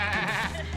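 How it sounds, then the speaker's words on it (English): A billy goat gives a single wavering bleat outdoors on a camping trail, loud and nearby, with no other sounds around it. "Billy goat back there."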